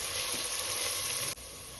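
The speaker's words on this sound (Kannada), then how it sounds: "ಇವಾಗ ಚೆಂದಂಗೆ ಉಳ್ಳಾಗಡ್ಡಿ ಕೆಂಪಗಾಗುತ್ತಲ್ಲ ಫ್ರೈ ಮಾಡ್ಕೊಳ್ಳೋಣ" Onions frying in a pot for a jackfruit and mushroom biryani: a steady, close sizzle with a faint stirring scrape, which quiets slightly near the end.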